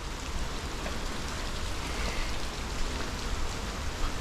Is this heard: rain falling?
yes